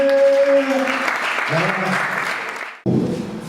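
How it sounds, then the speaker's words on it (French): Audience applause at an entrepreneurship conference session, clapping that fades out under tonal voices and then cuts off abruptly, followed by a brief burst of sound near the end. "Est-ce qu'on peut applaudir pour tout le monde, s'il vous plaît?"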